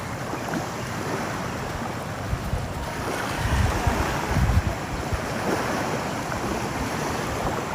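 Sea waves at high tide on a beach wash in under strong wind buffeting the microphone, with a low continuous roar and a couple of heavier surges in the middle.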